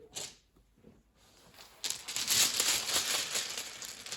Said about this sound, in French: on reprend les dés qu'on remet dans le bag